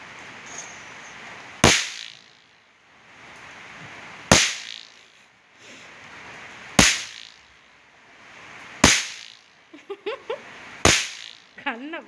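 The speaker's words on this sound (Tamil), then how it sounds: "பட்டாசு வெடிக்க வேண்டாம் போ." Firecrackers burst in five sharp, loud isolated bangs spaced about two to three seconds apart, with a few softer crackles and brief voices near the end.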